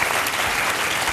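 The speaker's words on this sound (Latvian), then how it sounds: "Aplausi, protams." An audience applauds, a brief, dense burst of loud clapping from many hands, steady throughout with no pauses.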